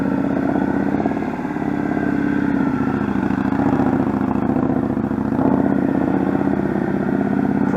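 Heavy motorcycle engine during a riding lesson, a steady rumbling mid-range drone with a light throttle blip near the end, close and continuous without talk.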